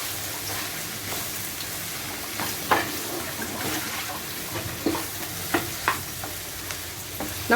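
Boneless cooked chicken is stirred with spices in a pan for Kerala-style chatti pathiri. A soft steady sizzle runs under intermittent scraping clicks of the spoon against the pan.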